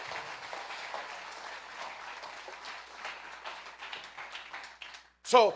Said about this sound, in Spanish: un aplauso para esos hermanos que han cooperado y que han dado y que se han entregado